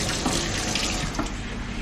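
Two taps run steadily, one fitted with an aerator and one without, giving a continuous hissing gush of water into a sink with no talk over it.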